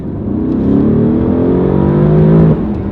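Mercedes-AMG GT R engine accelerating in comfort mode with exhaust flaps closed, heard from the cabin as a loud, rising drone that climbs steadily in pitch before easing off near the end.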